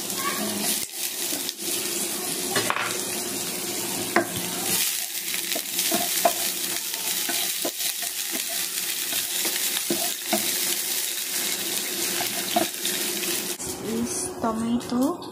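Onion frying in hot oil with fennel seed for a tempeh sambal, a steady loud sizzle with frequent scraping and stirring clicks from a utensil in the pan, continuous and close throughout.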